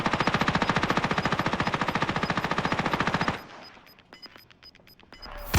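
Rapid automatic gunfire in Call of Duty Modern Warfare, a long steady burst of close, loud shots that stops abruptly, followed by quieter scattered clicks and a final loud hit.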